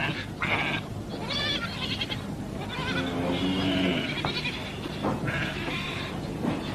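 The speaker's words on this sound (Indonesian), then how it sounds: "Kambingnya banyak bener." Goats bleat several times in a village setting, with one drawn-out, wavering bleat standing out midway through. The calls sit over a constant hiss of background noise, and no one speaks.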